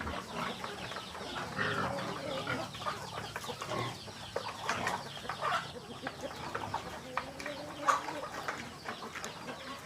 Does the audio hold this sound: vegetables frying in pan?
no